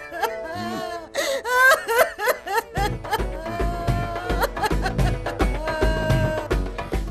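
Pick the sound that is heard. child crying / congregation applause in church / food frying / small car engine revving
child crying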